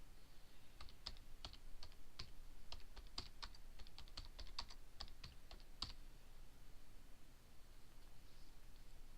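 Quiet typing on a computer keyboard while entering notes into a farm management software spreadsheet, a steady run of soft clicking keystrokes over faint background hiss that stops partway through.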